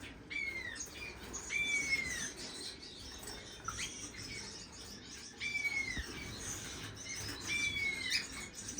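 Gouldian finches in a breeding bird room give repeated sharp squawks and chirps in several bursts, with soft wing flutter and patter beneath, fairly close and with no talking.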